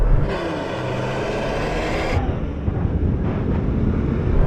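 A 3000-horsepower Nissan Patrol and a Ferrari SF90 launch in a drag race, engines roaring and climbing in pitch through the gears, then dropping into a heavier, rougher rumble as the run continues loud and close.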